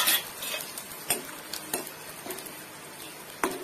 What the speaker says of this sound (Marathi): तेल तापलं आहे, मी हे झिंगा तळून घेत आहे